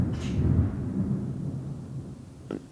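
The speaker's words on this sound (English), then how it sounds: "there was a huge thunderstorm" A huge thunderstorm rumbles low and steadily in the distance, faint and drawn out, with a brief soft thump near the end.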